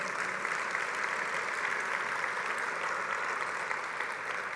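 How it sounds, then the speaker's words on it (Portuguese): Church congregation applauding the Lord, steady even clapping from many hands at moderate distance, continuous and fairly soft throughout. "Você pode aplaudir ao Senhor?"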